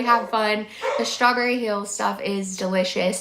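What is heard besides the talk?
dogs barking in the background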